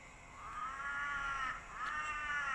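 A crow caws twice in Baguio: two drawn-out, harsh calls, fairly loud and close, with no talk over them.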